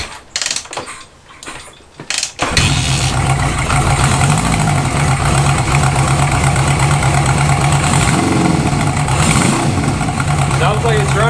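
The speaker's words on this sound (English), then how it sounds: "Now let's try to start up the bike and see how it runs." A Honda CB500 motorcycle engine cranks over and catches, then settles into a loud, steady idle with a mechanical ticking chatter, heard close, with a voice faintly under it.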